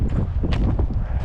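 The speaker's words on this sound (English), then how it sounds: "It is a little windy, I apologize for that." Wind gusting outdoors near a shop on a cold day, a loud, rough rumble buffeting the microphone continuously for about a second.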